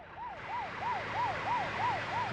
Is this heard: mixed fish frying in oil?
no